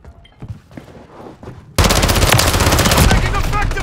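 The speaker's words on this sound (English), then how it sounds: "Taking effective fire!" Gunfire in the video game Call of Duty: Modern Warfare 3 multiplayer: faint distant shots at first, then sudden loud, sustained automatic fire with overlapping bursts close by.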